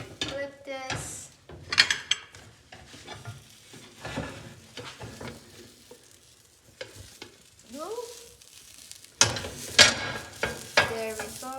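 A kuku sabzi herb frittata sizzles in a frying pan while it is flipped using a round plate. Steady frying hiss sits under loud clinks and clatters of the plate and pan, with irregular scraping bursts throughout.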